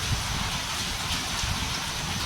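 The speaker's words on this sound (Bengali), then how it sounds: "বৃষ্টির শব্দ শুনতে পাচ্ছেন?" A dense, steady wash of rain falls outside, a constant broad hiss with a low rumbling undertone and no speech.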